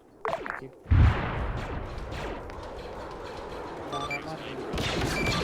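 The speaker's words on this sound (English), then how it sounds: "artillery beginning barrage, over" Artillery barrage in a military video game: a heavy thump, then a sustained rumbling roar of distant fire with crackling bursts, close and loud, with brief radio-style talk over it.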